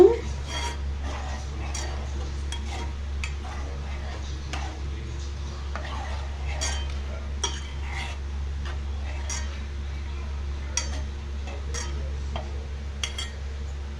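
Nellore-style fish curry being stirred in a pot, with soft scattered clinks and scrapes of a spoon over a steady low hum, faint and irregular, with some speech.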